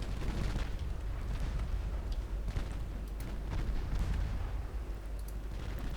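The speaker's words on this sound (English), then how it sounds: "ships are just exploding and flash firing all over" Warships explode and fire their guns nonstop in a naval battle in Ultimate Admiral Dreadnoughts, a dense rumbling barrage of overlapping booms and crackling bursts with no pause.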